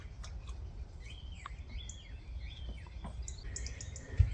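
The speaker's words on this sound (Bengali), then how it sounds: "পাখির ডাক ছাড়া কিছুই শোনা যাচ্ছে না" Several birds call and chirp in a quiet village garden in Alès, France, with repeated whistled notes at moderate distance over faint background hiss, no voices.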